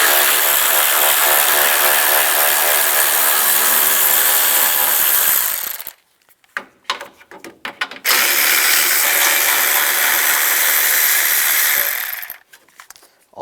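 A 10mm socket on a ratchet wrench clicks rapidly while removing bolts on a 2006-2011 Cadillac DTS hood release handle, in two long close bursts separated by a short pause.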